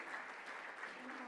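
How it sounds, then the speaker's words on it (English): Steady, even applause from an audience at a gala dinner, faint and distant, continuing without a break. "A big round of applause, ladies and gentlemen."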